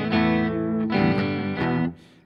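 A clean electric guitar tone played through a Zoom G1on pedal with a touch of reverb gives three ringing strummed chords, each sustaining before the last one cuts off and decays into a soft reverb tail.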